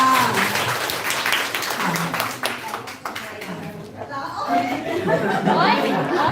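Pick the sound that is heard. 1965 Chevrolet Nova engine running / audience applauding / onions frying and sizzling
audience applauding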